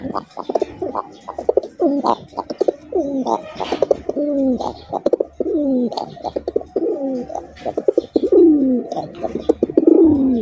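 Pigeons cooing in a loft, repeated rolling coos close by, one bird after another in a steady rhythm, with no voices over them.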